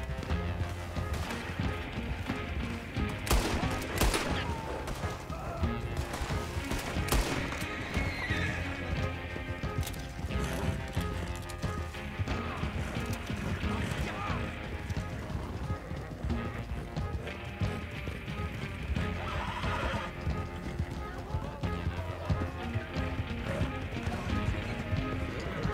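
In the video game Red Dead Online, a horse neighs and whinnies repeatedly over steady, galloping clip-clop hoofbeats, loud and close throughout, with game sounds mixed in.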